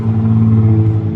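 Loud, steady low rumble of a 2004 Subaru WRX engine idling after a turbo, injector and fuel pump upgrade, heard close up for just over a second without talk.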